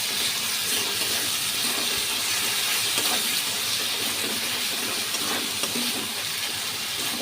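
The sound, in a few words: dried loitta fish paste frying in pan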